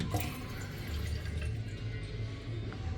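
Water running from a tap at Barcelona airport into a bottle, a steady splashing stream with a small clunk at the start, amid low hall ambience.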